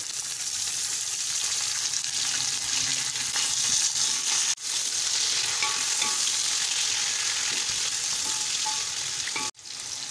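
Two medium tomatoes, sliced, sizzling in a pot of hot oil for a vegetable pulao, a steady loud frying hiss with stirring scrapes and a couple of sharp breaks, no talking.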